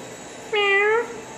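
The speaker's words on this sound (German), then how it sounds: "Also zumindest hat sie gerade noch Miau gemacht." A single clear cat meow, about half a second long, indoors in a room full of keys; loud and close, with no talking over it.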